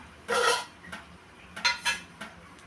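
A lidded bowl holding marinated magur catfish is handled in a kitchen, giving one clear clatter of the bowl and lid, then several lighter knocks and clinks at a quiet, close distance.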